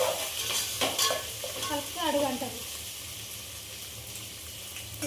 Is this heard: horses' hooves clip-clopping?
no